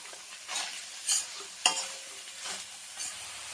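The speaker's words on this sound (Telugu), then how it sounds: "మనం సన్నగా కట్ చేసుకున్న ఉల్లిపొరక అయితే యాడ్ చేస్తున్నాను. ఇది కూడా ఆయిల్లో వేగితే టేస్ట్ బాగుంటుంది." Finely chopped spring onion and ginger paste fry in hot oil for an egg fry. A soft, continuous sizzle is broken by several scraping stirs of a spatula against the pan.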